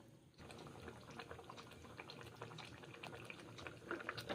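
Pot of moong dal and ridge gourd curry boiling in water, a steady close bubbling and simmering hiss that runs unbroken, with light clinks and pops scattered on top and no talk.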